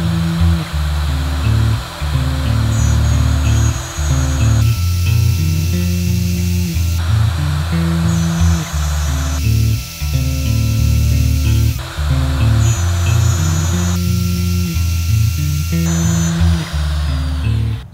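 A router cutting grooves in wood for a clock inlay, loud whining bursts in repeated passes of about two to three seconds each, separated by short lower drops as the cut pauses, close and without talk.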